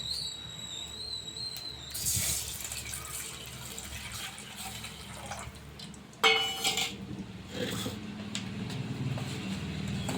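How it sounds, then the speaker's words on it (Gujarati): Water poured into hot oil in a pan for a Kathiyawadi dhokli curry, a bursting hiss and gurgle of liquid after a brief whistle, followed by steady bubbling and a sharp clatter midway. "તો આપણું તેલ થોડું ગરમ થઈ ગયું છે તો આપણે એમાં પાણી નાખી દઈશું."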